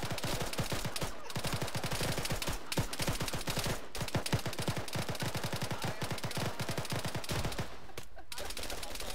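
Rapid automatic gunfire in the military game ArmA 3, long bursts of sharp repeated shots in steady rhythm with brief gaps, moderately loud throughout.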